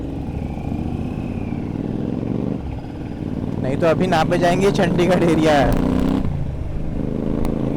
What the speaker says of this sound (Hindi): ये फिर खींच रहा है बाइक